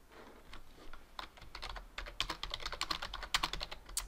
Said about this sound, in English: and then just type a message